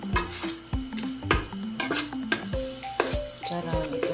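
A utensil stirs sardines and egg in a frying pan, with rhythmic scraping and clanking strokes roughly every half second over a constant sizzle, close and fairly loud.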